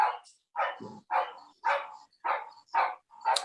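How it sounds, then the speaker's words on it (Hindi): Dogs barking in a rapid series of about seven sharp, loud barks at a steady rhythm, close by, with a short low growl or whimper between the early barks. "एक सेकंड में कुत्ते भौंक रहे।"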